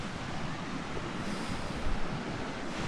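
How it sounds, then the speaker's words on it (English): River water rushing through a canyon below a trail near a bridge, a steady broadband roar heard from a distance, constant and unbroken with faint wind, no voices. "That's the water currently rushing down towards the Siffleur Bridge that we crossed"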